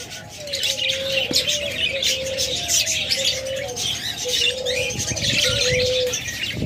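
A rainbow budgerigar pair, kept with other pet budgies, cockatiels and lovebirds for sale, chirps and warbles continuously at close range over a busy background of more bird calls.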